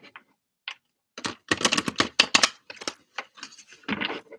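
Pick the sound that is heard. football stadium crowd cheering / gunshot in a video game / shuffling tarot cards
shuffling tarot cards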